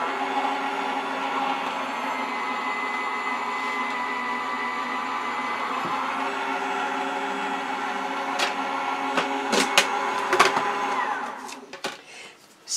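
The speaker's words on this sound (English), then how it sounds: "we're going to run that through a die cutting machine to apply pressure" A Gemini die cutting machine runs steadily, pressing foil onto flock for a pop-up card, a continuous motor whir with sharp clicks and knocks near the end before it winds down.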